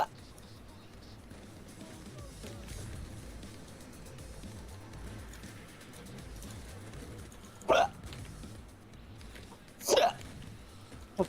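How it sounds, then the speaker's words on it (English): Two sharp hiccups, one at about eight seconds and another near ten, cut through continuous low conversation and room murmur from a person suffering a bad bout of hiccups. "I've had really bad hiccups the past couple of days."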